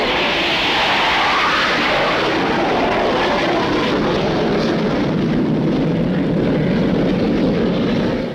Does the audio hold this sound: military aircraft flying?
yes